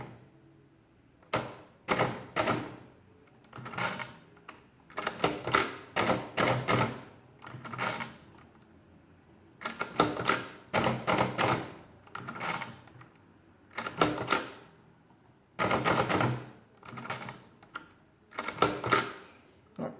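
An early Facit-style or Eastern European mechanical pinwheel calculator is cranked by hand, giving close bursts of sharp ratcheting clicks and clatters in irregular groups, separated by short quiet pauses.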